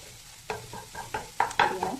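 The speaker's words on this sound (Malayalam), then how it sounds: "പിടിപ്പിച്ച് പിടിപ്പിച്ച് ജസ്റ്റ് കട്ട് ചെയ്ത് കട്ട് ചെയ്ത് കൊടുക്കാം ചിക്കി കൊടുക്കാം" Egg bhurji scraped and stirred in a hot pan, a string of sharp spatula strokes over a steady low sizzle, close and fairly loud with no voices.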